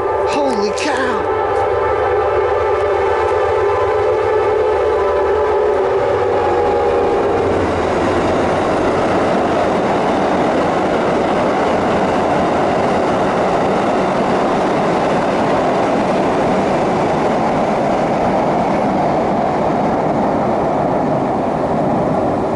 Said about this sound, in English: The train's coming. Here it comes.